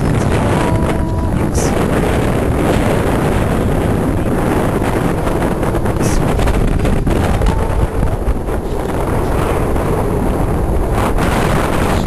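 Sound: wind blowing at a campsite in Iceland

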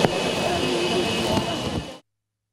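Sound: Federal Police airplane taking off

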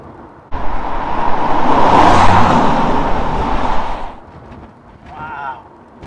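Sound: Jaguar XJS V12 6.0 accelerating hard

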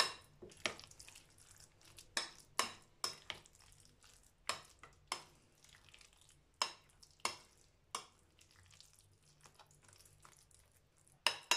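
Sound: stirring celery salad with olive oil

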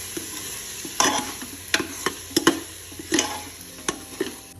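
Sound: mutton masala sautéing in a pan on low gas

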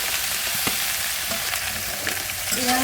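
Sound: okra frying and stirring in pan

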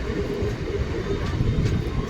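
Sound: Rampurhat-Jasidih MEMU passenger train taking a curve

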